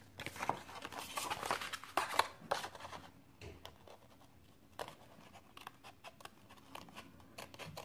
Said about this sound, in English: with my little scissors, I'm going to cut the half of circle out